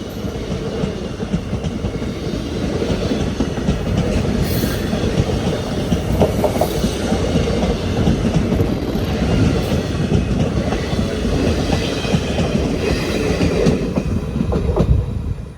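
A train rolls past near Cochin International Airport, a steady loud rumble of wagons with rhythmic clickety-clack from the wheels and occasional faint squeals, continuous for the whole stretch with no talking.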